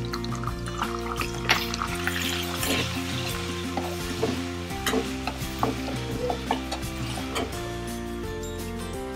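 Steady sizzling of ginger garlic paste frying in hot oil, with occasional stirring scrapes and clinks, close and continuous.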